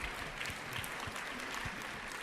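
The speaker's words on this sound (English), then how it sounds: "give him a round of applause." Faint audience applause at a Shaklee presentation, a dense, even wash of clapping heard from a distance, low in level and continuous throughout.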